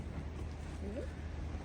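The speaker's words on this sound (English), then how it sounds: "It's very windy." Wind blowing steadily at a campsite on a full-moon night, a constant low roar and rush against the microphone with a faint brief voice-like sound partway through.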